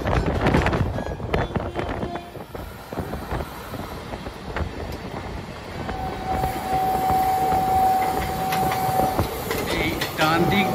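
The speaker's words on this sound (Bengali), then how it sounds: "এই আমাদের ট্রেনটা এই কটক স্টেশনে ঢুকছে।" Howrah–Puri Superfast Express rolling into Cuttack station, a continuous rumble of wheels and carriages with rattling clacks, wind buffeting the microphone and a sustained squeal of brakes in the latter half, heard from on board.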